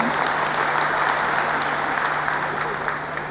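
Audience applause at an event in Kolkata, a dense, steady wash of many hands clapping together, loud and sustained throughout.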